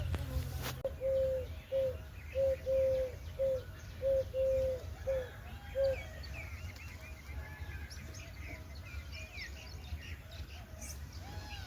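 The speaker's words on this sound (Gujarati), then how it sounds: "અહીંયા એક તાર પર હોલું ગાંગરે છે" A dove perched on a wire coos in a steady series of soft, low, hooting notes, repeated rhythmically several times, then stops, leaving quieter background chirps and ambient noise in a village morning.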